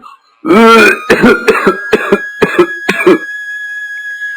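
An ailing elderly father in a Bangla cartoon coughs hard: one long rasping hack followed by a quick series of about six sharp, close coughs, voiced by an actor.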